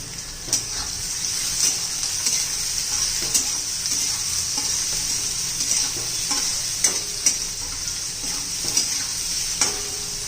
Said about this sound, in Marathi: कांदा चांगला परतून घ्यायचा आपल्याला कच्चेपणा जाईपर्यंत